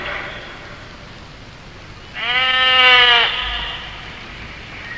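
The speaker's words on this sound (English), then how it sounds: "David learned that he was shearing his sheep there at Carmel" A single sheep bleats at shearing time, one drawn-out wavering cry of about a second, loud and fairly close against a faint background hiss with no talk.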